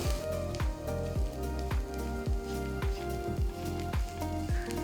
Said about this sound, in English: Saute the ingredients on medium-low flame for about 5 minutes.